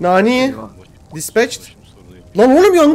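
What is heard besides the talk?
No distinct noise like a dog, phone or traffic.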